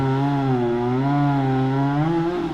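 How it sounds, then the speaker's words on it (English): A chainsaw runs steadily outdoors in the rain, its engine tone close and loud, wavering slightly in pitch as the throttle shifts, with no voices over it. "Some guy now with a fucking chainsaw out in the rain."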